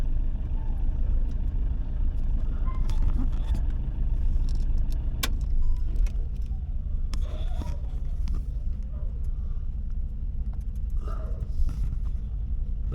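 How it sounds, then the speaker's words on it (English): Vehicles, cars and trucks among them, drive onto a car ferry from Stavanger to Bergen: a continuous low engine rumble with occasional clanks and jangles, steady and moderately loud throughout. "There's the last vehicles are coming on now."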